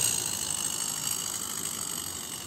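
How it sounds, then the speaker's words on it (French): A Regner Kastenlok live steam locomotive with oscillating cylinders idles at its lowest setting, giving a faint, steady fast-running mechanical hum and hiss that stays even throughout, with no talking. "Donc la locomotive a un excellent ralenti."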